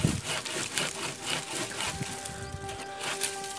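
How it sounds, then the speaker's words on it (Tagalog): A hand saw cutting through a very hard, thorny wood, giving rough, repeated rasping strokes at close range with faint tonal hum in the background. "tapos nilalagari ko siya"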